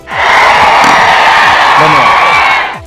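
A large crowd at Rahul Gandhi's rally speech in Solapur roars with dense, continuous cheering, clapping and shrill whistles. The noise is loud and steady for about three seconds before it eases off.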